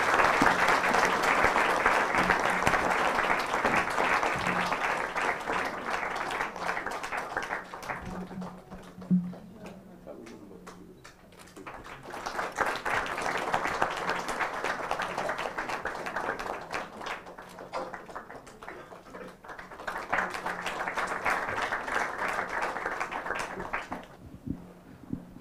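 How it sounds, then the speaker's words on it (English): An audience at a book launch and discussion applauding, dense sustained clapping in three waves with quieter gaps between, a few voices in the lulls. "An applause for Abha and Shelja"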